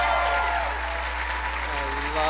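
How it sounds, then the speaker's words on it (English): Crowd applause at a RuPaul's DragCon 2015 panel, a continuous wash of clapping under a steady low hum, with a voice calling out over it. "Give me a round of applause."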